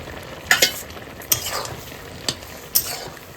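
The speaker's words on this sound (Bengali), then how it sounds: "এবার চিংড়ি মাছটা দিয়ে দেবো" Shrimp frying in a karai alongside eggplant and green chillies: a soft continuous sizzle punctuated by a few sharp spatula clicks and scrapes against the pan, close by.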